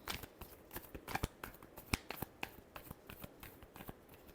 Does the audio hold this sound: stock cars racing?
no